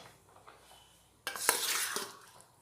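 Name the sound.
chopped chicken sizzling in hot oil for chow mein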